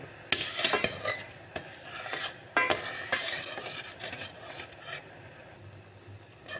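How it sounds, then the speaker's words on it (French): A spoon scrapes and clinks against a pot while stirring agar-agar powder into a sweet jelly mixture for ants, close and fairly quiet, with irregular taps and swishes. "Je continue de mélanger un peu pour dissoudre tout la poudre d'agar-agar."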